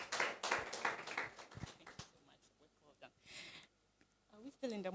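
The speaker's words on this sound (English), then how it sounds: "a big name deserves a big round of applause" Audience at a Falling Walls Lab science pitch event in Ghana breaks into a burst of clapping that dies down after about two seconds, followed by scattered small noises and someone speaking.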